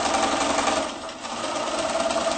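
A sewing machine runs steadily, stitching the side seam of a reversible A-line dress. Its fast, even whirring hum slows briefly midway, then picks up again.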